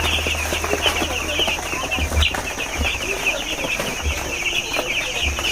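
Broiler chickens crowded in a dim poultry farm shed cluck and chatter continuously, a dense, close chorus of many birds over a low mechanical hum.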